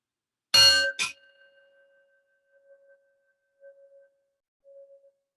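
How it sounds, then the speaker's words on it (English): A singing bell is struck once with a bright metallic clang, then a second quick strike, leaving a long pure ringing tone that slowly fades and pulses in a quiet room. "May we take a quiet moment with the ringing of our singing bell."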